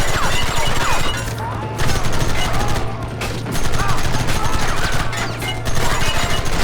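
Heavy gunfire from a Red Dead Redemption cutscene shootout, dense overlapping shots and rapid bursts rolling on loudly for several seconds with a constant low drone underneath and a few brief lulls.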